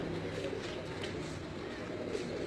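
Pigeons kept by a breeder in Lahore coo softly in the background, a low, faint murmur that runs continuously under a quiet ambient hum.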